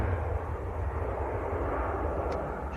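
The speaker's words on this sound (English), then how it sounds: "Just cut that one short to have a look at the PIA taxiing in." A PIA airliner taxiing at Manchester Airport, heard from outside as a broad, steady engine roar and rumble holding at even strength throughout, with no talk over it.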